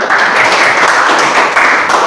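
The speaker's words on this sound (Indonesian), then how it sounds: "Iya, tepuk tangan." A dense burst of clapping from a group in a classroom lesson fills the whole moment, loud and continuous with no voices on top.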